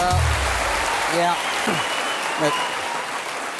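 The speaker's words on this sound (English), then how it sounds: "thank you for that applause" Studio audience applause on a British improv comedy show, a steady wash of clapping through the clip with a few brief voices or cheers on top.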